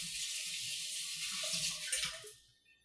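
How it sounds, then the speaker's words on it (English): Tap water runs steadily into a sink while hands are washed after cracking an egg in a home kitchen, a continuous hiss that tapers off as the faucet shuts near the end. "after cracking the egg, you have to wash your hands"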